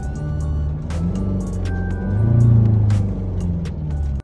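A Mercedes W212 car drives during regeneration, the engine giving a steady, loud, close rumble that swells slightly midway before holding level and cutting off at the end.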